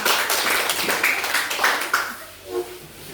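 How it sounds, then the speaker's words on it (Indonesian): A classroom group standing for an ice-breaker claps together, with quick, crisp hand claps strongest at first that thin out and fade after about two seconds, leaving a few faint voices. "tepuk tangan kita semua"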